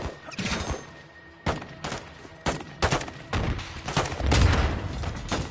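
Burst after burst of heavy gunfire from an air gun run in Modern Warfare 2, sharp loud volleys landing in irregular clusters with deep booming thuds near the end.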